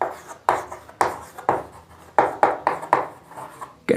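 Chalk or marker strokes on a classroom board during a chemistry lesson on physical and chemical change, heard as a series of short scratchy bursts, close and moderately loud, with no talk over them.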